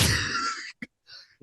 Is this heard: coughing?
yes